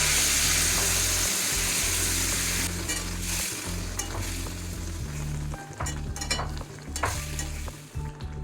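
Warm water poured into a tomato and spice masala for shol fish curry, the loud sizzle giving way to bubbling and spatter while a spoon stirs and scrapes the pan in quick strokes.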